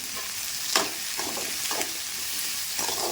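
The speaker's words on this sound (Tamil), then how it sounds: "உருளைக்கிழங்கு கொஞ்சம் வதங்கட்டும். இப்போ உருளைக்கிழங்கு கூட கத்திரிக்காயும் கொஞ்சம் சேர்த்துக்கிறேன்." Potato and brinjal pieces sauté in a hot oiled pan with a steady sizzle, broken by a few sharp scrapes and stirs of a spoon against the pan. There is no talking.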